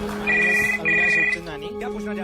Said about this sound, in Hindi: जब घर का लैंडलाइन बजा